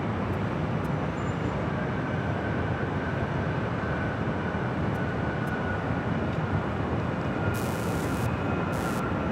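At Los Angeles LAX, an airliner lands on runway 24 right behind a heavy Dreamliner, its engine roar a steady, loud, broad rumble with a faint high whine that lasts throughout, and no talk.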